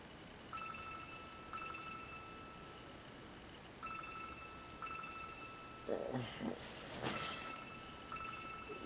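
A telephone rings in repeated electronic trills with short gaps, heard over a steady background hiss, and a brief voice or rustle toward the end.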